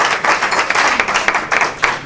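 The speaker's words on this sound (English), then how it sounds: "Give it a round of applause for yourselves," A comedy club audience claps loudly and closely for a couple of seconds, a dense burst of hand clapping from a small crowd with no talking.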